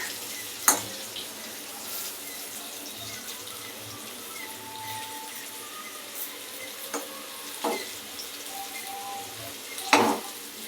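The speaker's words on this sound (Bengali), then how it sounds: "আলুটা ভাজা হয়েই গেল" Potatoes frying in a pan in a home kitchen give a soft, steady sizzle, with a few sharp clinks and scrapes of stirring scattered through it.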